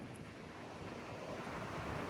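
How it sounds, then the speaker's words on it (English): Strong gusts of up to 70 mph drive a wildfire near Englewood, Kansas, making a steady, loud, rumbling roar of wind buffeting the microphone with no pause. "the wind is definitely moving"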